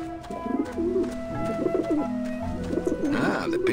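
Pigeons gathered at a dish vent in Grim Fandango coo continuously, with overlapping warbling calls rising near the end over a sustained tonal background.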